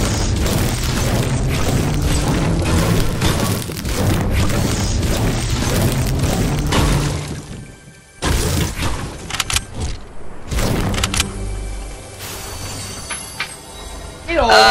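A bomb explodes in a video game with a loud, heavy boom that cuts through ongoing rumbling game noise, followed by sparser crashes and debris as a voice talks over it.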